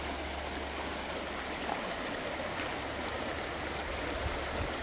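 Stream water flows steadily into the current where water quality probes are set, a constant broadband rush with no voices.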